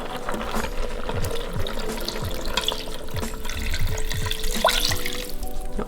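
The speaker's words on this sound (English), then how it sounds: "Then I'm going to add some water." Water pours steadily into an Instant Pot holding beef bourguignon ingredients and a bouquet of herbs, a continuous close splashing and trickling fill lasting several seconds without talk.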